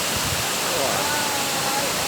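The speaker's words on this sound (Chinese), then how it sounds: "这个就是处女瀑布。" Maiden Falls at Manyueyuan forest recreation area gives off a steady, loud, broadband rush of falling water, filling the whole moment without pause.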